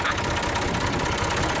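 A Massey Ferguson 135 tractor idles close by with a steady, rough, low diesel chug that holds even and unbroken, with no talking.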